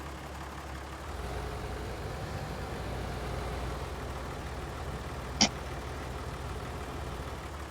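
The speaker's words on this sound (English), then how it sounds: "Come on, tractor, move, move, move." A tractor engine in the Farming Simulator 19 game drones steadily at a low idle throughout, with one brief sharp click partway through, and no talking.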